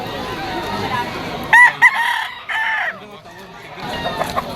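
A Kelso-bloodline gamecock stag crows nearby in a few short, loud bursts mixed with clucks. A faint hubbub of background noise fills the gaps between calls.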